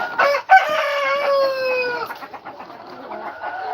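A rooster crows a long, drawn-out call near hens, followed by short clucks and scattered fowl chatter, close and fairly loud.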